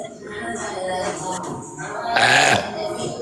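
A loud, drawn-out belch sounds close to the microphone, rasping and guttural, among vocal noises in a casual livestream setting.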